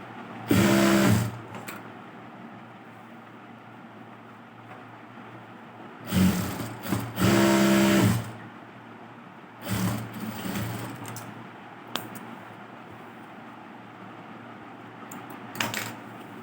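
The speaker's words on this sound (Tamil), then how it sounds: "இதை ஒரு தையல் நம்ம போட்டு வச்சுக்குவோம்" A sewing machine stitching a blouse runs in several short, loud whirring bursts separated by quiet pauses, with small clicks and taps between the runs.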